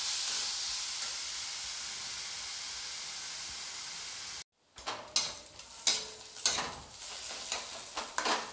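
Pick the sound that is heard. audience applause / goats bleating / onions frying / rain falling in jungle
onions frying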